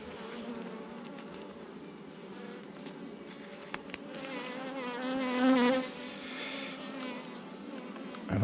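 Honey bees buzz around an open beehive, a continuous close drone of many wings that swells louder in places, with a few faint knocks in the background.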